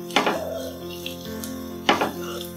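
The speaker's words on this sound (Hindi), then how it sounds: "अब इसको अच्छे से मिला लेंगे।" A spoon clatters twice against a bowl while a poha manchurian mixture with tomato is mixed by hand; two sharp clinks sit about two seconds apart over a quiet kitchen background.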